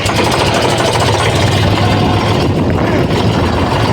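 A tractor engine running steadily nearby, a loud continuous low rumble with rough knocking texture throughout, no talk over it.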